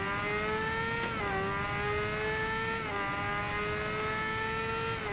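A 1998 Suzuki GSX-R 750 engine in the Ride 2 racing game wails at high revs, holding a steady tone with quick dips and rises at gear shifts, loud and close, with no talk.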